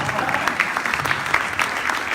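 Audience applause at a political rally, a steady wash of many hands clapping throughout with some crowd noise mixed in, fairly close and evenly loud.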